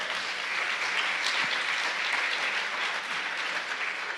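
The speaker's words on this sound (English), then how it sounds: "Let's give them both another round of applause." Awards ceremony audience giving a sustained round of applause, a loud, even roar of many hands clapping with no break across the whole stretch.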